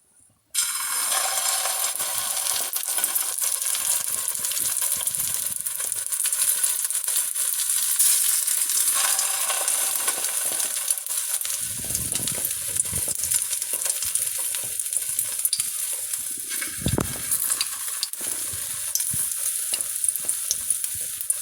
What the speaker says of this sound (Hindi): अब मैं कबाब को अंडे में डिप करके फ्राई करूंगी।